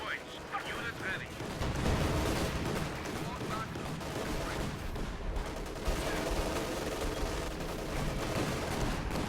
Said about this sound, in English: Scavenge artillery being dropped on the HQ to try and go for the annihilation victory